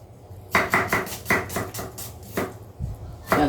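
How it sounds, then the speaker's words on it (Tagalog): Red onion and other onions chopped with a knife on a cutting board while cooking Bicol express, a series of crisp, close chops in an uneven rhythm with brief pauses. "umpisa na natin gayatin ang ating"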